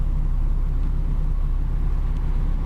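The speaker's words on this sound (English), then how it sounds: "here comes a speeder. Check him out. He's racing through here." A speeding car racing through a nearly empty retail area in Huntsville, Alabama, heard as a loud, close, continuous low engine and road rumble that holds steady with no voices.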